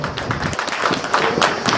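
Seated attendees at the Kanniyakumari Book Fair 2023 welcome guests with brief, moderately loud clapping, a dense patter of hands that carries on throughout.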